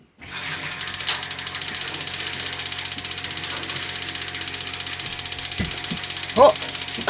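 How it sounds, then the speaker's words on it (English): An off-grid water pump switches on with a rapid, steady mechanical ticking that runs continuously at close range, with a few brief knocks and clunks partway through. "I'm going to turn that pump on, and if this leaks, I'm going to go postal"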